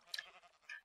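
A sheep in the Minecraft video game gives a short, faint bleat on a sheep farm, two quick wavering calls with nothing else heard.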